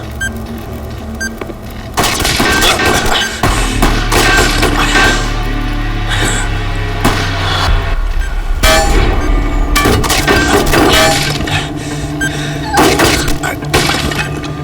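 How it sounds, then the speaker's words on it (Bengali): Gunfire in a CID crime drama episode set in a jungle, with loud dense bursts of shots and crashing impacts filling most of the stretch, heavy and continuous rather than isolated single reports. "কোথা থেকে গুলি চালাচ্ছে?"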